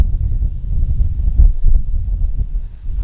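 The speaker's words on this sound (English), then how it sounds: "it's really windy, so hopefully you can hear me" Gusty wind buffets the microphone outdoors in a spring garden, a continuous low rumbling roar that swells and dips across the whole stretch, with no voices.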